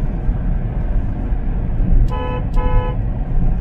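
A car horn gives two short honks in quick succession while a car cruises in fifth gear, the steady engine and road rumble continuing underneath.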